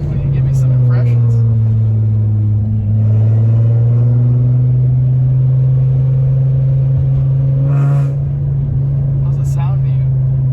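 A Nissan 350Z idles close by with a loud, steady low drone that sounds slightly rattly, holding almost even throughout with small shifts in pitch, while people talk over it.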